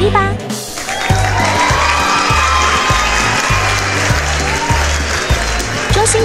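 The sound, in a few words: applause and cheering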